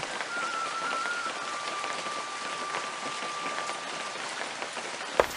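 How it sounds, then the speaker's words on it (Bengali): Steady rain pours down in a dense, even patter, with a faint tonal hum underneath and a brief knock near the end. "বাহিরে যা বৃষ্টি হচ্ছে"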